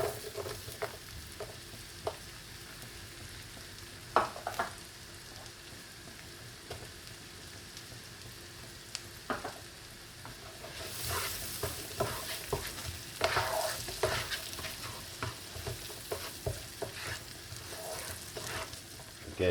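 Onions and spring onions fry in a pan for a salmon and creamy spinach dish, with a soft, steady sizzle and intermittent stirring scrapes that grow busier and more crackly toward the end.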